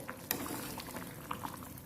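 Water boiling in a pot for cooking rice for mushroom biryani, a steady close bubbling and seething with faint pops throughout, no talking.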